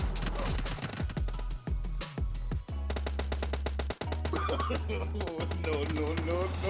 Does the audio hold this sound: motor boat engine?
no